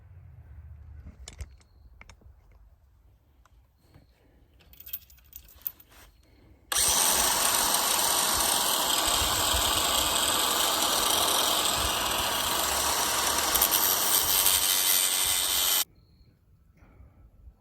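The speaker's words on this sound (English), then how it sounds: "We're gonna grind that off now too." An angle grinder cutting a metal chain off a target stand, a loud, steady, high-pitched grind that starts abruptly, holds for about nine seconds and stops sharply, preceded and followed by quieter handling clatter and low rumble.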